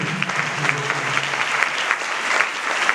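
Sustained applause from an audience at the closing of a church seminar, a dense, steady wash of many hands clapping without pause for the full length.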